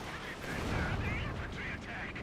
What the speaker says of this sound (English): Oh no, that's a Katusha rocket barrage.